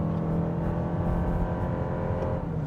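A 2026 Toyota RAV4 Limited AWD hybrid accelerating hard from a standstill toward 60 mph with traction control off, its engine drone rising steadily and heard from inside the cabin, loud and continuous with no talking.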